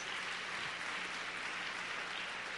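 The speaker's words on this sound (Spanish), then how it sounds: "Dele un segundo fuerte aplauso a Dios" A church congregation gives a second round of applause to God, a faint, distant, even wash of clapping that holds steady throughout.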